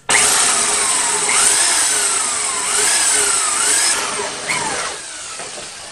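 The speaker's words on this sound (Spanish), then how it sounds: "depende de la copa sierra, y le vamos a hacer un hueco en el centro" Hole saw cutting a hole in the centre of a plastic bottle cap, a steady loud drill whine with rising and falling pitch sweeps as the bit bites, easing off near the end.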